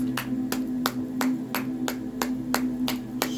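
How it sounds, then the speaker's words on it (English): Steady hand claps, about ten evenly spaced sharp claps over a constant low hum, close and clear with no talking. "All of those claps"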